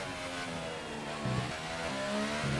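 A race car engine held in third gear in a racing video game on the Abu Dhabi circuit, droning steadily at high revs with a slight pitch shift midway, loud and continuous with no talking.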